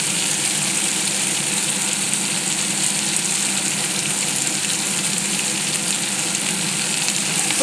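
Food sizzles steadily and loudly in a hot pan after turmeric is added, a dense, unbroken frying hiss with faint stirring and no voices.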